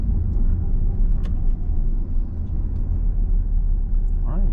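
Steady low car rumble from inside the cabin as the driver eases off the accelerator before braking on approach to traffic lights, a muffled engine drone with no sharp changes.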